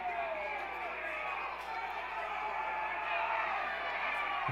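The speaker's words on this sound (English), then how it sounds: "This Jays crowd is furious." A high school football crowd at an Akron-Westfield versus Gehlen Catholic game reacts angrily to a late hit, a sustained roar of booing and shouting voices from the stands, steady and fairly distant.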